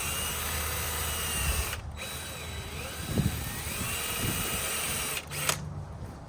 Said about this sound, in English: I just take a drill bit, like a 3/8 or something like that. I run it right through the middle.